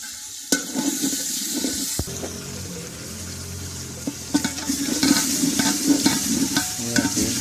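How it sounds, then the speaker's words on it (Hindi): Spices and garam masala sizzle in a hot pan for aloo pulao while a utensil scrapes and stirs, clinking against the pan several times up close. "तो मिक्स कर लें और थोड़ा सा भून लें"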